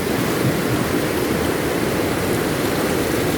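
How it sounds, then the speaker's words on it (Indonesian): Fast, yellow-brown river water rushes beneath a bypass bridge on the Lubuk Minturun river, a dense, steady roar of churning current that stays loud and continuous throughout, with no voices. "Airnya sangat kencang sekali"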